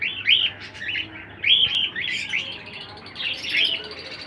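A pair of lutino cockatiels in a breeding cage chirps repeatedly, with bright, close tweets coming in clusters over quiet background noise.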